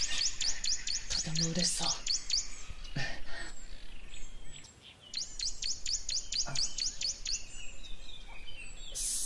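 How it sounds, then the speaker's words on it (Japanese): A pair of small birds flying nearby chirp in rapid, repeated high tweets in two long bursts, with someone speaking softly between them. "見てください、あそこに飛んでる小鳥。"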